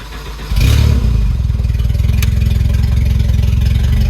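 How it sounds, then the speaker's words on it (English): A repaired engine whose cylinder head is warped starts loud and close, jumping into a strong rev and then holding a rough, pulsing run that breaks up slightly. "it revs a lot better than it did before"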